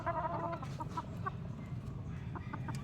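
Young white Kelso chickens, about three months old, cluck softly and repeatedly in the background over a constant low farmyard rumble, with no talking.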